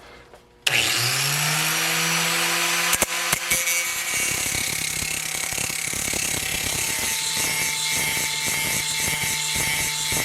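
Bench grinder clamped in a vise, spinning up and grinding metal for a Mercedes W109 modification: a sudden loud motor start, then steady high whine with rasping, crackling contact noise, close and continuous.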